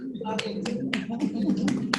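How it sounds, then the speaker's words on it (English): Hands clapping on a video call during a bar association signing ceremony, a quick series of sharp claps at an uneven rhythm, fairly close and steady, layered over a low continuous murmur of background voices. "Okay, I see the president, you're clapping. I'm clapping too."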